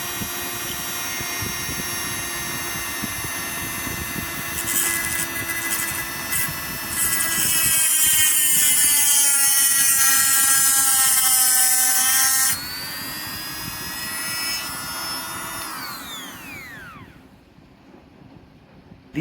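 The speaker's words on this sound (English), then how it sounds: "This can be used to cut really hard materials again. For example, this is hardened steel." A Dremel rotary tool with a cutting wheel slices into hardened steel: a loud, steady high-pitched whine and grinding screech that rises in pitch, then winds down as the tool spins to a stop near the end.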